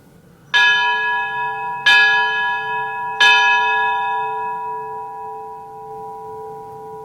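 Church bells ring on Easter in Tbilisi, three strong clanging strikes a little over a second apart, each leaving a long humming decay that fades, with no voices.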